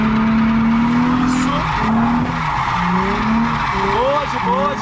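A car drifts on a practice track with the handbrake pulled, its engine revving loudly and steadily while tires squeal and skid, the squeals rising in pitch near the end; people talk over the noise.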